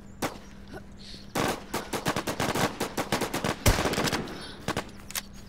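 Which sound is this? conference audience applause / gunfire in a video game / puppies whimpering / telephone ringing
gunfire in a video game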